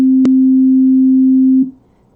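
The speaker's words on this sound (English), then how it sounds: "So we're going to start with a sine wave. Sine wave is a very clean," A pure, steady sine wave tone holds at one pitch, loud and clean, with a tiny click near the start, then cuts off abruptly and leaves near silence.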